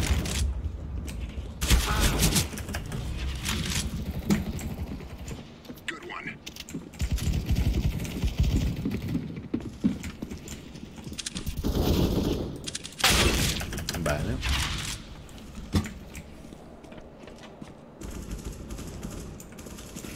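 Rapid bursts of gunfire from Counter-Strike: Global Offensive deathmatch crackle on and off, with some heavy bangs and a player talking over the action.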